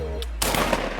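A single loud, close shotgun blast fired at a clay target, cracking sharply and ringing out briefly over faint outdoor background.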